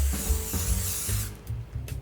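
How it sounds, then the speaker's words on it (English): Cooking oil spray hisses onto a pie tin in a single continuous burst of about a second and a half, close and fairly loud, before trailing off into quiet kitchen handling sounds. "I'm going to give my pie tin a little bit of a quick spray."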